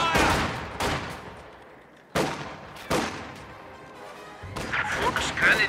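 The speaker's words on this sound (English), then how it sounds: "Small arms fire!" Small arms fire crackles in the Company of Heroes 2 war game, with loud separate bursts of rifle and machine-gun shots and impacts spaced every second or so, dying away between volleys and then a denser rattle at the end.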